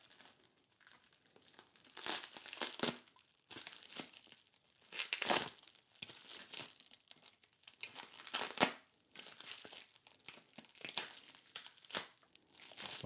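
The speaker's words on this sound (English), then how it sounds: "Let's cut the wrap off and let's see which smoke wagon it is." Plastic shrink wrap being cut and peeled off a Smoke Wagon whiskey bottle, with close, irregular crinkling and tearing bursts that come in repeated clusters over several seconds, and no talking.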